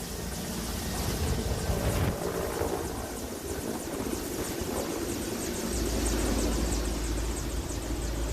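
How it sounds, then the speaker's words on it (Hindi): Military relief helicopter flying supplies to flood-hit villages in Himachal Pradesh, its rotor and engine a loud, steady thrumming roar with rhythmic blade chop throughout, no one speaking. "ये हेलीकॉप्टर्स राहत सामग्री लेकर पहुंच रहे हैं।"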